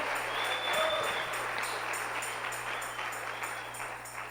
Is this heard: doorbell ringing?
no